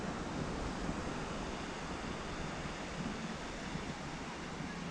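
Steady, continuous broadband wash of surf on Rossbeigh Beach in County Kerry, Ireland, mixed with wind buffeting the microphone, constant and fairly loud throughout with no voices.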